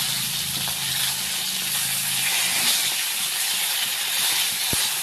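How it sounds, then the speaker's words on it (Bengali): Fish fries in hot mustard oil, a steady sizzling hiss that runs unbroken throughout, close by and fairly loud, with a brief low thump near the end. "তো দেখো মাছটা আমার ভাজা হচ্ছে, একটু লাল লাল করে ভেজে নেব মাছটা।"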